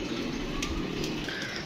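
Pigeons cooing while being fed grain, soft low murmuring coos from several birds close by, continuous over a brief moment with light rustling and no speech.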